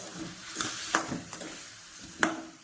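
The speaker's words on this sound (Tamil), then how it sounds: "இப்போ நல்லா இதை வந்து கிளறி கொடுக்கணும்" Chicken curry, just salted, being stirred in a pan: a few scraping strokes at uneven intervals over a low, steady sizzle, close by, with no talking.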